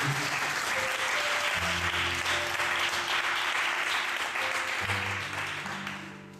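A church congregation applauds the Lord at a worship service, a dense, steady wash of clapping that carries on evenly before fading toward the end, with faint sustained musical tones underneath.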